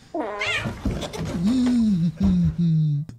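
A cat lets out loud, drawn-out meows close by, rising and falling in pitch like a yowl, in a few separate calls over a few seconds.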